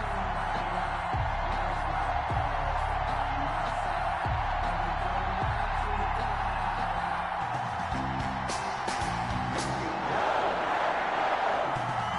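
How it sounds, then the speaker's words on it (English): A stadium crowd at Lambeau Field before a Detroit Lions vs Green Bay Packers NFL game makes a steady, dense roar. The noise swells throughout, with scattered shouts and cheers and no clear pauses. "This crowd is ready as their guys get set to match up between the Detroit Lions and the Green Bay Packers."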